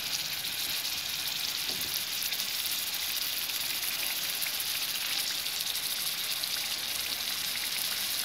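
Fish pieces fry in a pan with a steady, even sizzle and crackle of hot oil, close and continuous throughout with no voices.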